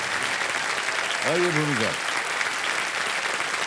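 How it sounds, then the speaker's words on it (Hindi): Steady applause from a studio audience on a televised quiz show, loud and continuous, with a host briefly speaking over it. "कम ताली बजते रहे इनके लिए"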